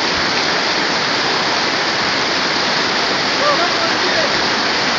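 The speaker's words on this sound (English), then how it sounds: "Got a river crossing, but it's more like a river than a creek." River water rushing loudly and steadily at a creek crossing on the Lightning Ridge Trail, a dense, continuous roar close by with no pauses.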